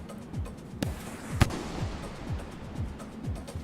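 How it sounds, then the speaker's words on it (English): In the video game Rain World, a bomb goes off with a sharp, loud burst, then another blast follows shortly after, amid a series of repeated lower thumping pulses. "I did not want to throw the bomb immediately"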